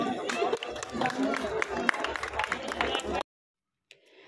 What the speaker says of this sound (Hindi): भरपूर तालियां पाइन न्यूज के लिए।